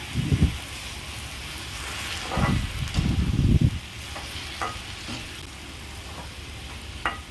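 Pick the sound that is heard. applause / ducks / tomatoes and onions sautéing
tomatoes and onions sautéing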